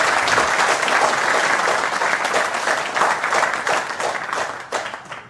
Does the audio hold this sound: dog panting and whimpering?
no